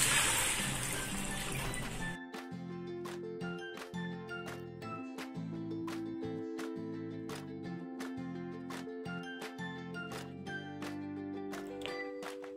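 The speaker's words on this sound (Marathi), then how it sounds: "आता ह्याच्यामध्ये पाणी घालूया. हे मी 1 कप पाणी घेतलेलं आहे." One cup of water pours into mixed vegetable clear soup in a pan, a short splashing gush at the start, then background music with tinkling clinks takes over.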